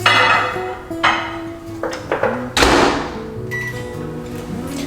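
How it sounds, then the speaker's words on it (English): Microwave oven heating paneer in water and butter, heard as clunks, beeps and a door thud over a low steady hum, close by with no talking. "I'm gonna put this in microwave and microwave it for like a couple of minutes so it gets soft"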